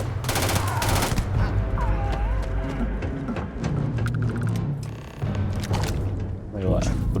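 Gunfire in the space game Starfield, rapid shots and bursts running through the whole stretch, loud and close, mixed with game effects while people talk over it.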